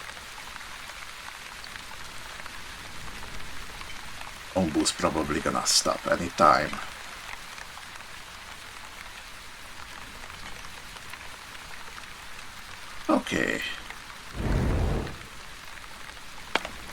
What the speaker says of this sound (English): the rain has overtook us.